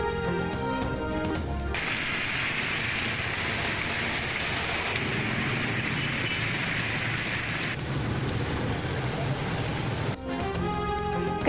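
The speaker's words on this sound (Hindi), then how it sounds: "कराची के मुख्तलिफ इलाकों में वक्फे से बारिश" Steady heavy rain falls across Karachi, a dense continuous hiss of rain on surfaces, with brief musical stings at the start and end.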